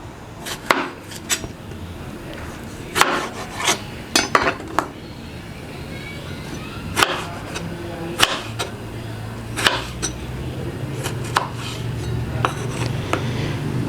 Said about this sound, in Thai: ไปแล้วก็จะหั่นมะเขือเทศไปนะครับไม่รอ